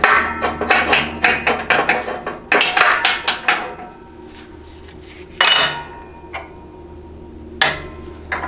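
A hammer drives a bushing driver into a 68RFE automatic transmission, with rapid bursts of sharp, ringing metal-on-metal strikes followed by a few single, spaced blows nearby.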